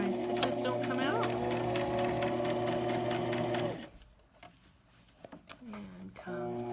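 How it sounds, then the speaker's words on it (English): A sewing machine stitches a hair scrunchie in a fast, steady whir, runs forward and back, then stops for a few soft handling clicks before briefly starting up again. "first I'm going to go forward and then do my little back stitch to make sure my stitches don't come out"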